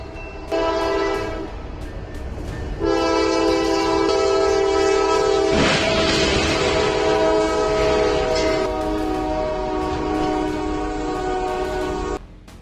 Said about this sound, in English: A tractor trailer got stuck on the tracks as a speeding train rushed toward it.